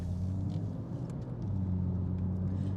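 Steady low rumble of a 2018 BMW M2 LCI engine at idle, a deep even drone with a slight dip and swell, close by and with no one talking.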